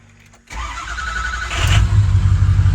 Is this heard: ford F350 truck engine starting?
yes